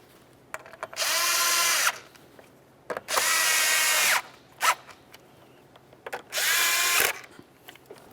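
A power drill or impact driver runs in three sustained bursts of about a second each, with a short blip between, tightening the AC compressor cover bolts on a 2001-2005 Ford Explorer Sport Trac; a loud, steady whine set against quiet garage background.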